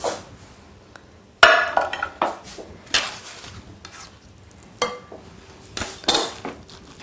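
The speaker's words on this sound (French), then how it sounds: "Là, nous mélangeons." Spinach tart ingredients mixed in a bowl, with a spoon or utensil scraping and clinking against the dish in irregular bursts of taps and stirring, close and fairly loud, with no talking.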